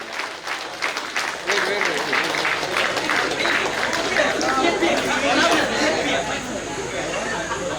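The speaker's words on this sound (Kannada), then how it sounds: "ಮತ್ತೊಮ್ಮೆ ಚಪ್ಪಾಳೆಯ ಅಭಿನಂದನೆ" Audience applause at a stage ceremony honouring an artist's portrait, a steady wash of clapping lasting several seconds with crowd chatter mixed in and a voice speaking over it.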